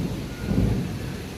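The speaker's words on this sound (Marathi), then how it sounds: "हे बघा, बापरे भयंकर वादळी पाऊस येत आहे." A deep roll of thunder swells and fades over steady, heavy rain during a violent storm outside a house. The rumble is low and fairly loud, and there is no talk.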